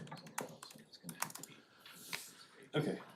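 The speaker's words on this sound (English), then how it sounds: "Staff is still typing." Staff at a plan commission meeting type on a computer keyboard, a close run of irregular clicking keystrokes with a louder clatter near the end and faint voices in the background.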